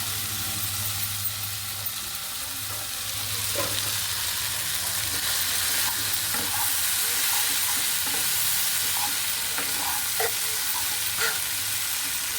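Vegetable pasta fries in a pan, a steady broadband sizzle with scattered stirring clicks and scrapes running throughout, fairly close, plus a low hum underneath.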